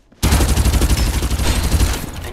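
Sustained automatic gunfire in Farlight 84 erupts after a brief quiet start, a loud rapid stream of shots with a pulsing rhythm lasting about two seconds.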